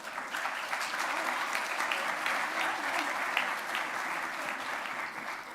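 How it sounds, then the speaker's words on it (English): A crowd applauds at an eighth grade graduation ceremony, producing a steady, even wash of many clapping hands with no break, fairly close and moderately loud. "one more big round of applause for the class of 2025"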